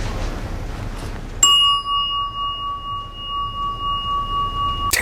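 A bell rings in an episode of the Fargo TV series: one sharp metallic ding with a long, pure sustained ring that slowly pulses, then a second strike at the very end, over quiet background.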